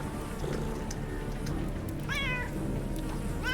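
A cat in the video game Underrail meows twice, short rising cries standing out over a low, steady background hum.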